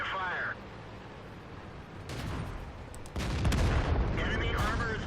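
Tank cannon fire in the World of Tanks video game, an M24 Chaffee, heard as heavy booming blasts and rumbling battle noise with a couple of sharper surges, under brief voice chatter.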